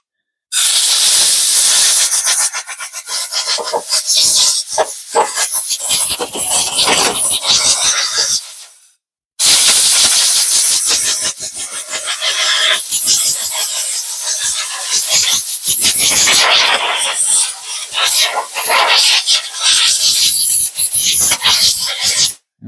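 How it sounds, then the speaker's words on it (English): Compressed air blasts out a rototiller air cleaner at close range: a loud, steady rushing hiss in two long bursts separated by a brief pause. "Now I'm going to blow out that air cleaner real quick."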